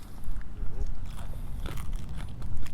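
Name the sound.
biting and chewing a crispy taco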